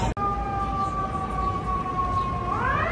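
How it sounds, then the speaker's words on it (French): A distant New York City siren holds a long steady wail before rising in pitch, over a constant low hum of city noise. "On entend les superbes sirènes de New York."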